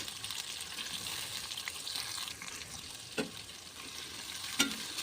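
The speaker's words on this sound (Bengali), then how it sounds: "রসুন আদা পেঁয়াজ কাঁচামরিচ এগুলো দিয়ে ভালো করে কষিয়ে নেব" Garlic, ginger, onion, green chilli and shrimp sautéing with chopped banana stem: a faint, even sizzle throughout, broken by a couple of brief stirring knocks.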